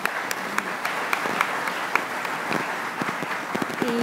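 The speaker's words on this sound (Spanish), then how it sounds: "un fuerte aplauso a nuestros dos expositores" A conference audience at a national legal congress applauds its two speakers, a steady wash of clapping from a mid-sized crowd filling the hall for several seconds.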